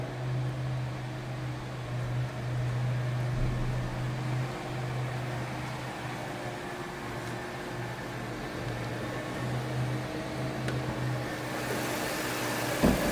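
A 1994 Buick Regal GS sedan engine idles with a steady, low hum and a faint whirring layer, smooth and unchanging throughout, no talking.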